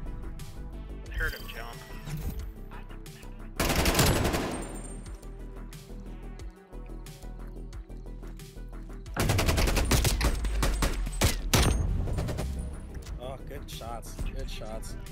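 Gunfire in Call of Duty: Black Ops Cold War during a competitive CDL tournament match, with loud automatic weapon bursts and repeated shots in dense volleys, two long heavy stretches of fire, and faint voices underneath.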